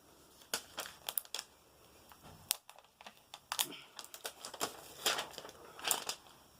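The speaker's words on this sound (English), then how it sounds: "Let me take that plastic off." Plastic wrap peeled off cosmetic packaging from an April 2019 Boxycharm beauty box, a close series of sharp crinkles and crackles in uneven bursts, with no voices.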